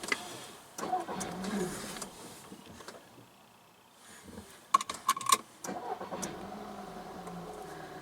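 A car engine cranking but failing to start, brief bursts of starter whirring and clicks with a jangle of keys, close inside the cabin, separated by quiet gaps, no talk.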